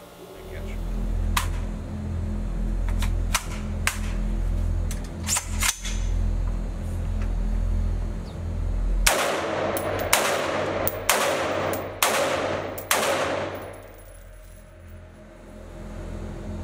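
A CheyTac USA CT-15 rifle fed from a hex magazine on a range fires a close series of sharp reports, several spaced shots clustered together, set against a steady low rumble of outdoor background noise.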